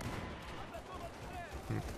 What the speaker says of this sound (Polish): Granaty wybuchają